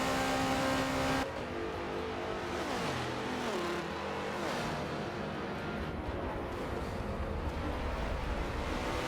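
Mazda and Chevy race cars battling in a racing video game, with engine drone that shifts pitch as the cars accelerate and change gear, a steady moderate roar throughout.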